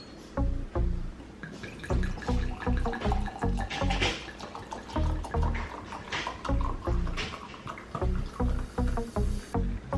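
Liquid poured in short bursts into a glass, with gurgling splashes and glugs repeating through the clip, close and fairly quiet.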